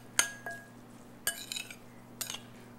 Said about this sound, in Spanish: vamos a revolver un poquito en este punto